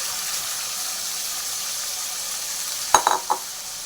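Tomatoes, six or seven of them, dropped into a hot pan for tomato egg curry, giving a steady sizzling fry with a few sharp clattering splashes near the end, no talking.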